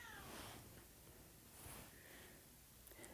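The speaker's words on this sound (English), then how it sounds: "I can hear my cat" Pet cat meowing in a room during a lecture, a faint, distant cry rising briefly over steady background hiss, with no other sound around it.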